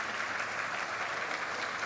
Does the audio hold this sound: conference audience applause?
yes